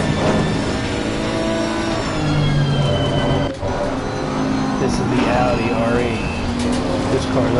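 An Audi R8 engine in a racing video game hums and revs steadily with rising and falling tones, close and fairly loud, with faint talk mixed in underneath.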